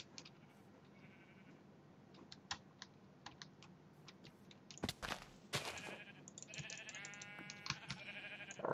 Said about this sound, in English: I just heard another sheep.